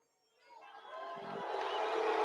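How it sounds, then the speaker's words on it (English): A crowd at a boxing press conference rising from near silence into a swelling roar of voices, building steadily louder and more sustained toward the end. "why they booing Bud like that"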